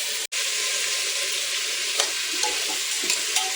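Green peas and vegetables being stirred and fried in hot oil for pav bhaji, a steady loud sizzle with occasional scraping and clinking of a spoon against the pan.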